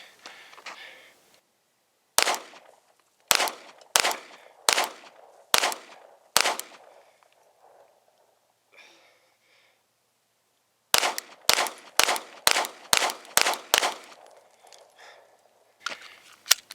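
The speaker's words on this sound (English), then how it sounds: "Sig Sauer shooting SIG military rounds, 124 grain plus P" Two strings of Sig Sauer pistol shots with SIG military 124-grain +P ammunition: six sharp, evenly spaced reports, a pause, then about seven more in quick rhythm, each loud and close with short decay, ending in a couple of stray bangs.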